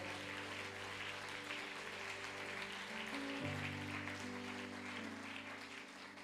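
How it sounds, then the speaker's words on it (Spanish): A church congregation applauds Christ during a sermon, sustained steady clapping and cheering with held keyboard chords underneath that shift pitch midway. "Dele ese aplauso a él, por favor"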